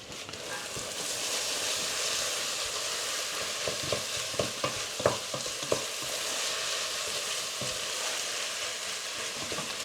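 Carrot being stir-fried with onion and leek in oil in a pot, giving a steady close sizzle with scattered clicks and scrapes from stirring against the pot.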